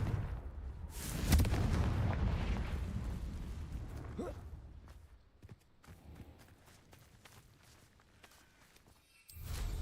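Hogwarts Legacy gameplay with the Confringo blasting spell: a loud burst erupts early and rumbles on, followed by scattered thumps and clatter that fade before another surge at the end.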